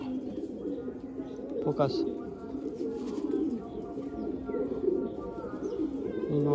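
Tournament pigeons, including a white male and female pair, coo softly on a rooftop in the late afternoon, with a person talking over them.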